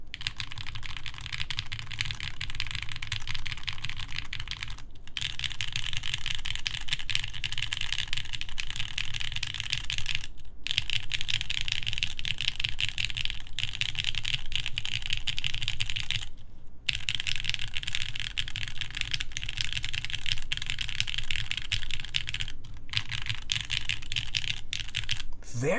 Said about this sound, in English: Very nice sounding board.